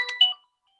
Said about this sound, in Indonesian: Ada telepon dulu.